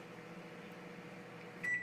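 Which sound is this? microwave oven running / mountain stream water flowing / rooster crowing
microwave oven running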